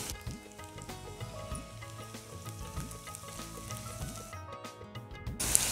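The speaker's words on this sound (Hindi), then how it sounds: "कटी हुई मूली भी तेल के साथ में सिक रही है" Chopped radish pieces fry in hot oil with onions for a radish-leaf bhaji, giving a steady close sizzle and crackle throughout, with no voices.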